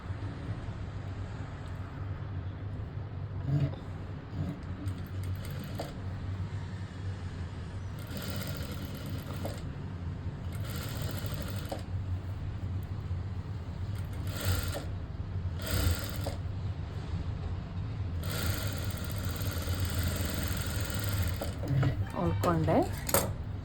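A sewing machine stitches a blouse at the shoulder, giving a steady mechanical whir with repeated louder bursts of running stitches. A voice speaks quietly over it throughout.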